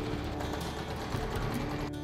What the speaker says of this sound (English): Becky happily sews away